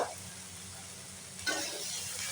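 Chopped tomato and dried chillies frying in a pan, a soft continuous sizzle that swells as they are stirred near the end, with no voices.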